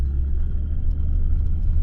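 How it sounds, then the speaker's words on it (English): A car engine idles steadily just after a cold start during bush repairs in the Simpson Desert, giving a loud, close, continuous low rumble without a break. "Car started."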